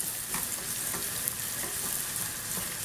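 Soft cherry tomatoes sizzle gently in a pan while a wooden spatula stirs them, giving a constant quiet frying crackle with faint scraping taps.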